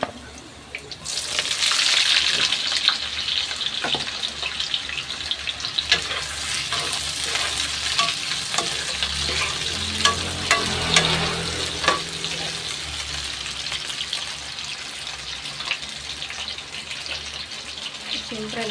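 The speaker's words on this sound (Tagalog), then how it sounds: "At pwede natin ilagay yung ating hotdog. Ayan, yung hotdog natin." Hotdogs added to a browning mix in a frying pan sizzle loudly and steadily, with stirring scrapes and clatter throughout, heard up close.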